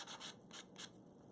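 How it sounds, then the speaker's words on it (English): Nail buffer rubbing across dip powder nails in a close, quiet series of about three soft scratchy strokes with brief pauses, no talking. "I'm just using a buffer to hit all the nails when I'm done"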